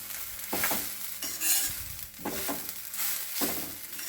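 Grated coconut is stirred in a hot kadai for pumpkin sambar: repeated scraping strokes of a spoon against the pan, each roughly a second apart, over a soft continuous sizzle, close up and without talking.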